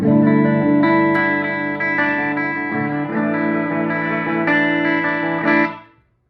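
A dry electric guitar plays sustained, slightly distorted chords through an EVH 5150 III 50-watt 2x12 EL34 combo amp, loud and close, with several chord changes before the final chord cuts off into silence.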